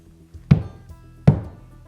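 Two separate thunks from a 3D printed colour-changing object being banged by hand, spaced under a second apart, close and fairly loud, in a garage workshop with no talk.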